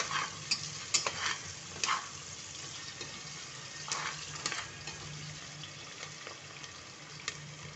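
Onions fry in oil until reddish for a soybean pulao, giving a steady close sizzle broken by occasional sharp crackles and brief stirring scrapes, with no voices over it.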